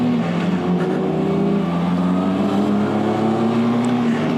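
Harley-Davidson X 350 motorcycle riding down a slightly bumpy road, its engine holding a steady, continuous drone at moderate speed with constant road and wind noise throughout.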